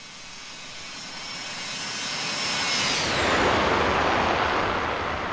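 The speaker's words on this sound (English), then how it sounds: "Those high bypass ratio engines. So loud." Roaring high bypass jet engines of a Delta MD-88 in the X-Plane 11 flight simulator, a broad rushing drone with a faint whine that swells to a loud peak mid-clip, then eases slightly, with no voices.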